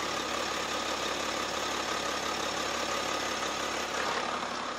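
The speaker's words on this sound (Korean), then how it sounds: "바로 이 차량 이제 엔진 소리 한번 들려드릴게요." A smooth, steady six-cylinder engine of a four-wheel-drive BMW X5 idles with an even, low hum and no talking, holding constant throughout.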